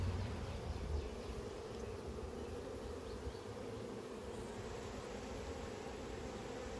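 Honeybees hum steadily in an open hive, a dense, continuous buzz close by with a faint rustle of frames and no voices.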